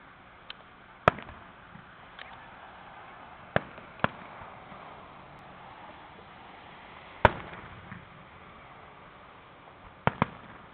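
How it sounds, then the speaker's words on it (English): Fireworks at an outdoor show in Olathe, Kansas: a handful of distant sharp bangs and crackling pops spaced several seconds apart over a low steady background. "Look at those fireworks."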